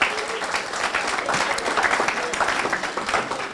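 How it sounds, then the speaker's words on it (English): A crowd gives warm applause at a closing ceremony, dense sustained clapping from many people, fairly loud and even from start to finish with a faint voice underneath. "they deserve a warm applause for what they have accomplished thus far"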